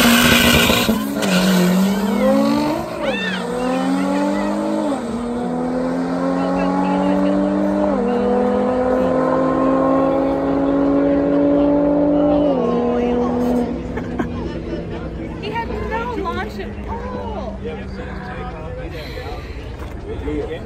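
A Honda NSX and a Nissan GT-R launch in a drag race, engines screaming loud and close through rising gear-by-gear pulls with brief tire chirps, the revs climbing then fading as the cars pull away, people talking over the noise.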